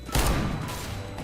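Gunfire in the video game CS:GO during an Arms Race match, a dense burst of shots opening loud and close, then a sustained crackling rattle that carries on to the end with no talking.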